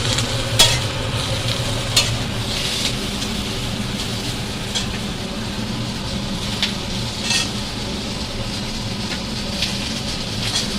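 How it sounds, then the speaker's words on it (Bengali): Khichuri cooking in a pot, with a steady low sizzle and bubbling under repeated scraping stirs, a few sharper clinks from a spoon against the pot, fairly close and moderately loud, no talking. "এখন হচ্ছে খিচুড়ি, এই যে খিচুড়ি হচ্ছে।"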